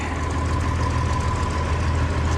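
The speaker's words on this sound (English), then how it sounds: "get the grain truck out of the barn here" A grain truck's engine idles in or near a farm barn, giving a steady, close, low rumble with a faint knocking texture that holds unchanged throughout.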